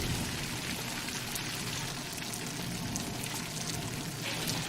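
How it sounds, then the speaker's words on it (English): Steady rain falls at night in the early hours, a dense, even patter and hiss of drops spread across the whole spectrum, close and continuous with no pauses or talk. "It's actually raining."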